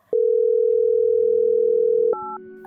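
Telephone tone heard while a call is being placed: one loud, steady electronic tone holds for about two seconds, then gives way to a shifting pair of higher tones.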